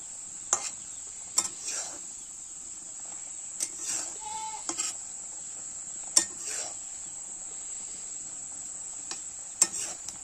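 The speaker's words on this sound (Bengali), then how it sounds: "এটা সারাক্ষণই লাড়তে হবে, নয়তো কড়ায় লেগে যাবে।" Boiling sugar syrup with chili powder for raw mango pickle, stirred in a karahi, makes a faint steady sizzling hiss with scattered soft scrapes and taps of the spoon against the pan.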